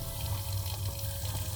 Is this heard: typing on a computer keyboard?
no